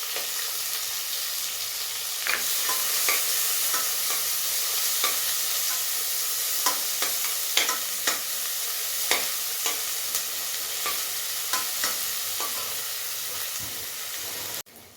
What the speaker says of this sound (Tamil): பத்து வெங்காயம் கட் பண்ணி வச்சுருக்கோம் அதையும் சேர்த்து வளைக்கிடலாம்